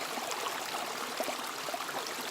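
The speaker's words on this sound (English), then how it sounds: "So here's a good stream, running water" Running water in a forest stream along the Appalachian Trail flows with a steady close rush and small trickling splashes, with no voices.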